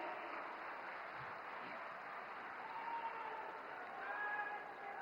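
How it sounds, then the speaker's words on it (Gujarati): Crowd applause greeting the Prime Minister at a road show in Rajkot, a faint, steady wash of clapping and crowd noise heard from some distance, with a few indistinct voices mixed in. "આદરણીય પ્રધાનમંત્રી શ્રીનું તાળીઓના ગડગડાટથી સ્વાગત કરીએ"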